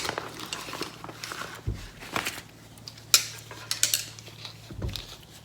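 Metal tire changing spoons for a pit bike tire being handled, with a few sharp clinks and clanks of steel knocking together, spaced irregularly against a quiet background hum.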